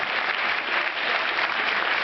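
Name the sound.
audience applause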